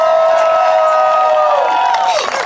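Cheering and applause from an audience celebrating the Ford Mustang giveaway winner, a loud sustained crowd roar with whoops and shouts that swells and then tapers near the end.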